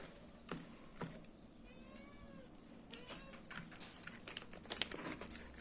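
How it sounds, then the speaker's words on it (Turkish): A cat meows a few times in a quiet indoor room during a slime-making session, light and fairly close, with faint crinkling and rustling around it and no talk. "Kedi oynamak istiyor yani."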